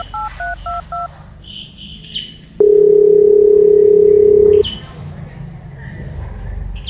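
Telephone keypad tones as a number is dialed, a short run of evenly spaced beeps followed by a long steady dial or ring tone lasting about two seconds, with faint background noise around them.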